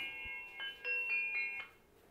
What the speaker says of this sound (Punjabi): ਭਾਬੀ ਦਾ ਫੋਨ।